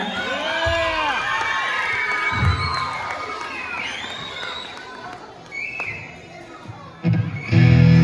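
Audience at an elementary school show cheers and shouts, children's voices loud and close, rising in bursts as a student band is introduced; a few sharp thumps break through near the end.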